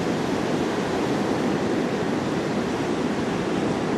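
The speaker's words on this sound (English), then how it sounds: "You like watching the waves come in" Pacific Ocean surf rolling in on the coast near Ballina or Byron Bay, a dense, continuous roar of breaking waves with wind buffeting the microphone and no voices.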